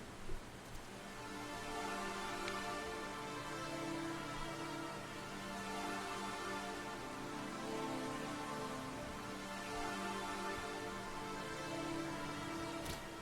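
A continuous, brassy 80s-style synth pad holds a rich chord at an even volume, droning steadily without any choppy half-time gating or pauses.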